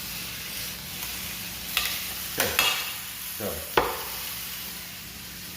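Ossobuco sears in a very hot pan, giving a steady close sizzle with several sharp spatters and pops spread through it and a brief voice near the start.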